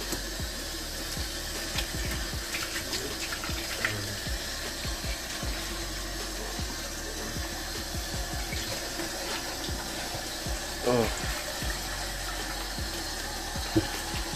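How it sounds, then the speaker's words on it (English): Running tap water rinses sauce-stained white clothing, a steady close splashing wash that continues throughout with occasional louder splashes and handling noises. "let's get it nice and rinsed off here"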